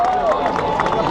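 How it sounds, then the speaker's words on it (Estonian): A dense wash of crowd noise and applause fills a student mud-wrestling event at Tartu student days. The din is loud and continuous, with voices blending into the noise. "Suur aplaus!"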